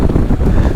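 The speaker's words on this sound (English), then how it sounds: "Oh God, the wind." Strong desert wind in Peru roaring and buffeting loudly against the microphone during a tuk-tuk ride, a short, dense rumbling blast.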